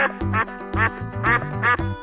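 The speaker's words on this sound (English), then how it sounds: "Duck, 오리." A duck quacks four times in quick succession, loud and close, with short pauses between the nasal calls.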